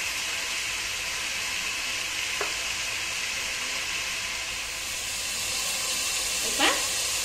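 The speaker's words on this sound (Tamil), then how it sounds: "வெங்காயம் நல்லா வதங்கட்டும்" Chopped onions sizzle steadily in a hot pan for prawn biryani, with a continuous close frying hiss broken by a couple of faint scrapes of stirring.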